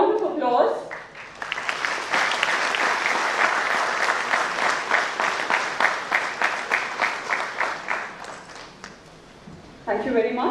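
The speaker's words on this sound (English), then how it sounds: "Ladies and gentlemen, a round of applause." Applause breaks out from an audience at a national-level NIELIT workshop, dense at first and then thinning into sharper individual claps, with a speaker's voice briefly at the start and again at the end.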